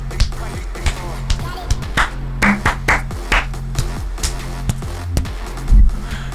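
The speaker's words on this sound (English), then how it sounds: "Change the pitch of a clap." Hand claps played with an attempt to change their pitch, heard as a run of sharp, close, evenly spaced claps over a steady low hum, with a few varied slaps mixed in.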